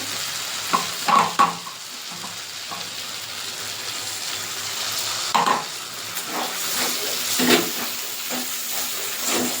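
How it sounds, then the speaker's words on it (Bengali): A thick spice paste of cashew, poppy seed, green chilli, tomato and ginger sizzles in a pan for butter paneer, with a spoon scraping and stirring in irregular bursts over a steady frying hiss. "কাজু পোস্ত কাঁচা লঙ্কা টমেটো আদা পেস্টটা দিয়ে মশলাটা কষিয়ে নেব"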